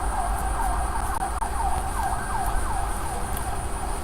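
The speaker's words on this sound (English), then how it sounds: "So the ambulance, I want you to hear it." Ambulance siren wails in a steady repeating rise-and-fall pattern, moderately loud and somewhat distant over a low background rumble.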